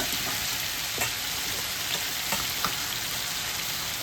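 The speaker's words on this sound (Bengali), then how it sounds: "দেখো সুন্দর একদম ভাজা ভাজা হয়ে গেছে।" Lentil fritters fry in oil in a pan, a dense, even sizzling hiss close by with occasional faint pops and ticks throughout.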